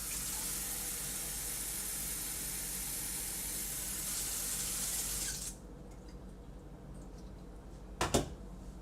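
Water pours into a measuring cup for strawberry cake batter, a steady rushing hiss for about five seconds that stops abruptly, leaving a quiet room and a short clatter near the end.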